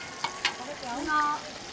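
Chicken frying in a pan gives a soft, steady sizzle with a couple of brief clatters near the start, fairly quiet and close, with no talking over it.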